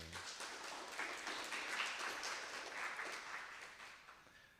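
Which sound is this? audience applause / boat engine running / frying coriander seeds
audience applause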